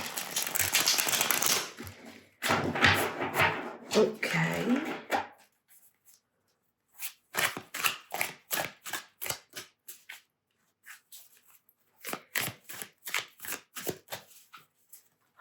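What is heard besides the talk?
shuffling tarot cards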